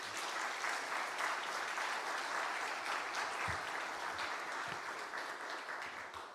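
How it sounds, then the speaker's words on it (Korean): A church congregation at a military university church's Wednesday service claps in welcome for a visiting missionary preacher, a continuous, even wash of many hands that is fairly distant and quiet throughout. "우리 나오실 때 환영과 축복의 박수로 맞이하도록 하겠습니다"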